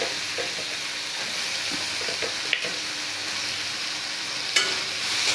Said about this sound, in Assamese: আৰু এতিয়া মই ইয়াতে বিলাহীখিনিও দি দিম, সেইখিনি ভাজি ল'ম।